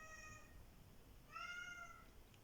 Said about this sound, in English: My cat.